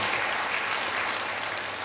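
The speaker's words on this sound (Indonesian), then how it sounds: "Yang mau beri tepuk tangan yang baik buat dia" Brief burst of congregational applause during an Indonesian church sermon, a steady, moderately soft wash of many hands clapping, with no talking over it.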